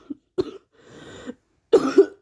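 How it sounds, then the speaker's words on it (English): A person coughs several times in short, husky bursts, with a raspy throaty stretch in between, close and fairly loud. "Sorry guys, I have a cough right now."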